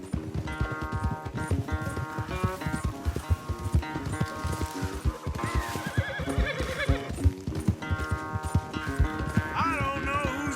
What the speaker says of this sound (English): Why don't I race you back?